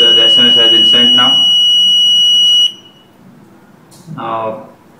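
A gas detector alarm on a fire and gas detection system with GSM alert buzzes with a steady, loud high tone that runs for about two and a half seconds and then cuts off, while someone talks over it.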